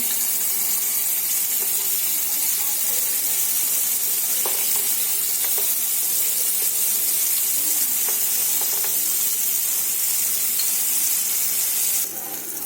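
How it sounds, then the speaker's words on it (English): Marinated paneer slices fry in a hot pan, giving a loud, continuous close sizzle with faint crackles throughout. "The pan is hot. I'm going to put the marinated paneer slices and then cook it both sides till they become crispy."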